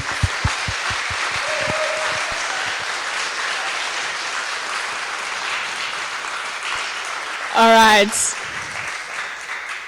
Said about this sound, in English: A big round of applause for Tristan.